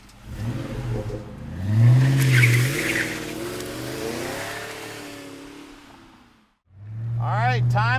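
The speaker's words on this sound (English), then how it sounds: "Listen to that supercharger, man." A supercharged 2004 Ford Mustang SVT Cobra engine revs hard, pitch rising and falling through a long loud pull, then fades, goes briefly quiet and roars back up.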